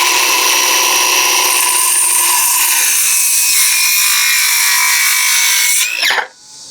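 Power saw running steadily and loudly as it cuts through a wooden support piece for a bottom support, a continuous whining roar that drops away abruptly at the end of the cut.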